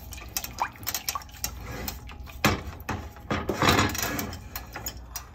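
Honey syrup stirred in a bowl for a honey cake, giving soft wet drips, liquid sloshes and light clinks of the utensil in an irregular rhythm, close by with no talking.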